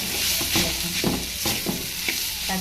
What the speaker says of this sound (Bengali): পুঁই শাকের পাতা আর পেঁপে একসাথে ভাজি করেছি।